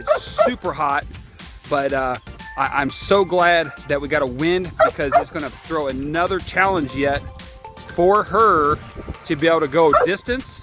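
Young retriever barking and yipping with excitement ahead of a training dummy launch, set outdoors in hot, windy weather; the barks come in short bursts while a person talks nearly continuously over them.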